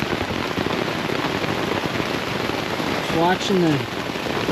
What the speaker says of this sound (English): raindrops keep falling on my tent.